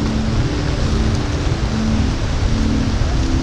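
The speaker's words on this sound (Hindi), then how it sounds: "यहाँ पे लगभग बहुत ज़्यादा बारिश हो रही है" Heavy rain on the mountain road from Sonprayag to Kedarnath, a loud, dense, unbroken roar of downpour with a low rumble underneath, steady throughout.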